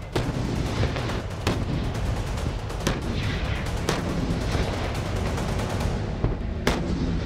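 Heavy gunfire from a tank at the Jhelum firing range in Pakistan, sharp booming reports at irregular intervals over a dense, continuous rumbling background.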